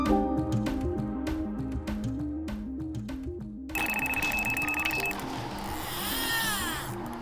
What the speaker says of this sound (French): On a eu un petit bip d'avertissement.